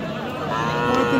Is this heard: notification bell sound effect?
no